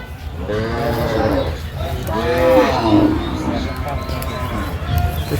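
A Sahiwal bull lowing in a couple of deep, drawn-out calls nearby, with a noisy crowd of voices around it.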